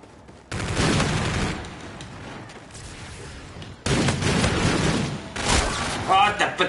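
Gunfire in a Call of Duty online match: bursts of rapid automatic shots and loud gunfire in several clusters, close and punchy, separated by quieter stretches.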